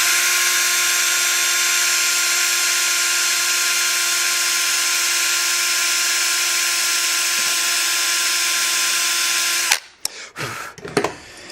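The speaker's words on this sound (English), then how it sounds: "Need me a bigger drill bit." A power drill whines steadily and loudly into a tough piece of metal on a 1971 Harley golf cart, holding one high pitch for several seconds before stopping, followed by a few clunks and scrapes.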